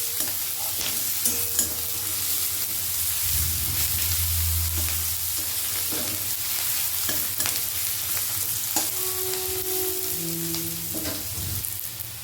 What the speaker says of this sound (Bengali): রসুনটা সামান্য ভাজা হয়ে গেছে, এবার দিয়ে দিচ্ছি আদাটা